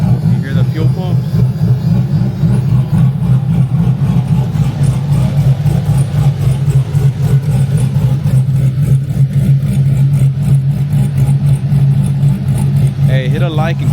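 A big-turbo LS race car engine cold-starting on E85 fuel in snowy weather settles into a loud, lumpy idle that thrums steadily for the full length, with a voice talking over it briefly near the end.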